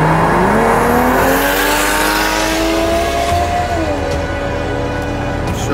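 A loud, close race car engine, from a race between a Skoda Octavia, a Toyota Chaser and a BMW M5, climbs steadily in pitch under hard acceleration with a brief shift, then keeps roaring over rushing wind noise.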